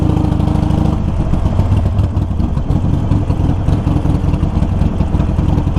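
A Harley Sportster motorcycle engine rumbles loudly and steadily while riding slowly along a sidewalk, a close, continuous low throb with no speech over it.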